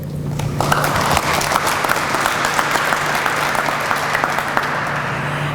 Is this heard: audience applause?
yes